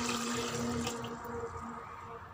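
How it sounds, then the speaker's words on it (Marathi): Water is poured from a vessel into a kadhai with a steaming stand for cooking sweet potatoes, a steady splashing pour heard close and fairly soft. "तर त्यामध्ये टाकायचं आहे पाणी. 1 तांबे टाकते मी."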